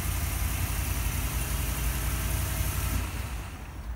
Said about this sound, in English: Just give it a second, and the vehicle starts.